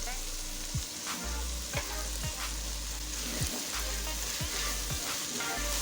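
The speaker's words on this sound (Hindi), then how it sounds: "मसाले को अच्छी तरह भून लेंगे।" Cumin and spices for dhaba-style chana daal fry sizzle steadily in hot oil, loud and close, with a spoon stirring and scraping the pan every second or so.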